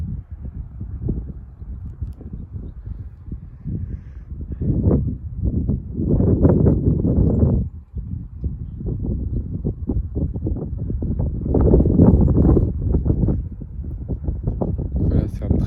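A strong northeasterly bise wind gusting against the microphone, with loud buffeting surges that rise and fall in bursts over a steady roar, heard close up and alone.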